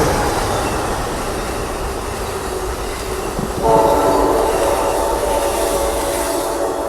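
Amtrak Coast Starlight passenger train #14 rumbles past Oakland Coliseum station, then its loud multi-tone horn blasts midway and holds for several seconds over the rolling wheels.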